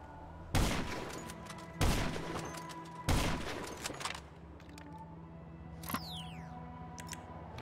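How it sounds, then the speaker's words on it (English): Gunshots fired through a building in GTA 5 Online ring out as three loud, sharp reports about a second apart, each with a ringing tail, followed by quieter clicks and a faint whizzing sweep. "I just shot him through the entire building and probably the parking garage walls too"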